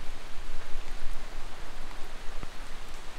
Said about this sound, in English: It's not storming nearly as bad as it was, but it's storming pretty good.